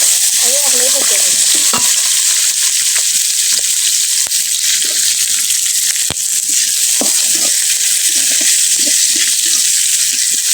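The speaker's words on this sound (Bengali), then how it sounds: "লেজটা ভালোভাবে ভাজে নিতেছি, লেজটা ভালো করে ভাজা হয়" A hilsa fish tail fries in a pan with a loud, constant crackling sizzle, broken by a few scraping stirs and taps of a utensil, with no voices.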